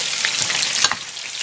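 Garlic and ginger paste sizzles and fries in a pan while dum kebabs are being cooked, a bright crackling hiss with a few small pops, close and alone.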